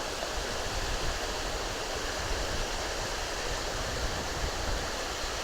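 The Bogowonto river runs high and swollen in the rainy season, a dense, constant rushing roar of water with no breaks, heard alone.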